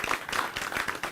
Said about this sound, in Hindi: एक बार जोरदार तालियां बजाकर आप शुक्रिया कहें आज के हमारे विशेषज्ञ को